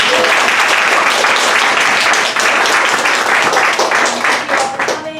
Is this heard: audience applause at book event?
yes